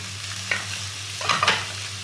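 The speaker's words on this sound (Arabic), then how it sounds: "وشوحتها شويه يا حبايبي، طريقه بسيطه وسهله" Rice and peas stir-fried in a pot, a steady hiss of frying with a few scraping stirs of a spoon midway, close and fairly loud, no voices.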